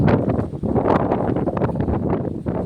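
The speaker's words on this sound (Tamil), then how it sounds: "மாடியில் காலையிலே செம்மையாக காற்றடிக்குது. நிற்க முடியல, அவ்வளோ காற்றடிக்குது." Strong gusting wind on a rooftop garden roars and buffets the microphone continuously, a loud rumbling rush with occasional flutters and no voices.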